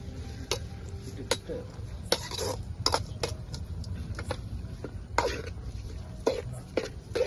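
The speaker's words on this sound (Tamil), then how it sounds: "தக்காளி நல்லா வதங்குற வரைக்கும் நல்லா இது பண்ணுங்க." Tomatoes being stirred and sautéed in a pan at an outdoor camping cookout, with irregular sharp scrapes and taps of the spoon over a low background rumble.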